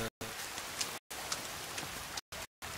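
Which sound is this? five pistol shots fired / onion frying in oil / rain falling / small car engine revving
rain falling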